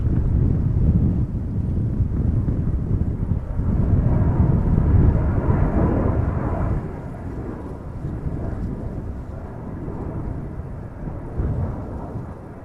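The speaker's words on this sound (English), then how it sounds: "And we have another departure from center, another Embraer" An Embraer jet departs Amsterdam Schiphol Airport with a deep, rumbling roar that swells and slowly fades, heard from a distance amid gusty wind noise on the microphone.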